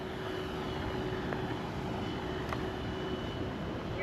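A Flightline Corsair F4U-1A radio-controlled model plane on 6S power flies with a steady, continuous drone and a faint whine, holding an even loudness throughout with no talk.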